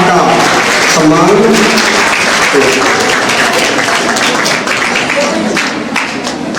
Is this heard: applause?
yes